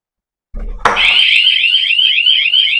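A wireless home security alarm system siren bursts on after a brief thump: a loud, shrill, continuous electronic wail that holds steady to the end.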